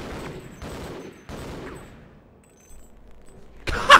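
Gunfire from the video game Half-Life comes as several loud, close bursts of shots spaced apart, then a brief lull, ending in a sharp blast.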